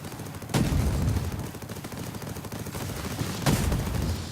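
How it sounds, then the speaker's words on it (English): Turret-mounted machine guns fire in the TerraTech vehicle-building game, a continuous rattling stream of rapid shots with two sharper bursts standing out, loud and close. "I like these machine guns on top have quite a nice turn radius"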